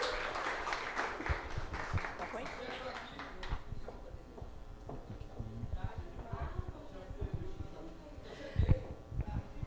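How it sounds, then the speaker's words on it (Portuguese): Audience applause welcoming a speaker at a Copasa workplace safety event on ergonomics, a dense wash of clapping for about three seconds that fades under a presenter's voice. "Recebam essa linda, com muitos aplausos, a Aline Kézar Lacerda."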